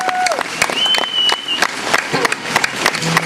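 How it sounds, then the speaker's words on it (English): Lively crowd applause at a 1960s rock musician's talk for Vietnam veterans and troops, with individual claps cutting through a continuous crowd roar and a sustained tone running underneath. "give them a big Georgia round of applause for the Vietnam vets and all of our troops"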